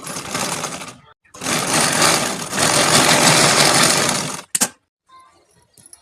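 A sewing machine runs in two loud, steady stitching bursts, pausing briefly between them, while a seamstress sews the lining of a blouse; a short mechanical clack and quiet handling sounds follow as the needle stops.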